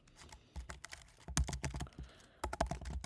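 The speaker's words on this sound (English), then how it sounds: "typing on my keyboard." Close, rapid typing on a computer keyboard in irregular bursts of key clacks with short pauses, loud and alone with no talk.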